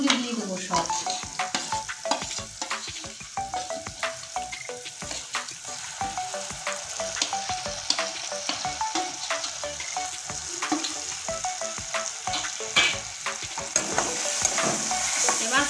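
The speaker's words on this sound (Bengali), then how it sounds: "এবার মশলাটা লাল করে ভেজে নেব।" Paste of ground chili, garlic and cumin fries in a pan under continuous stirring, with a busy crackling sizzle and frequent scraping strokes close by, no talking.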